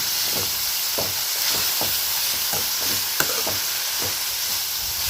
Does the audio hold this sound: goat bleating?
no